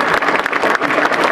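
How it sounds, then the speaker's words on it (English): An audience at an MIT energy event claps together, a brief burst of dense, steady applause heard close and alone. "Round of applause for Michael Chen."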